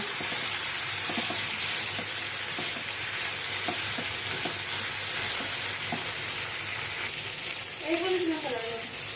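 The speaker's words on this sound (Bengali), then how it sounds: "আর কিছু সময় কষিয়ে নিব একটু ভালো করে না কষালে কিন্তু তরকারি মজা হয় না" Curry being stir-fried in a pan, a steady sizzle with repeated scraping strokes of a spoon throughout and faint running water near the end.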